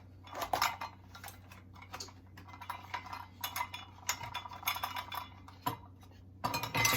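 A metal spoon clinks and taps against a pot while a tablespoon of cornstarch goes into a turkey wing and parboiled rice dish, with a scatter of light, close knocks and scrapes and no talking.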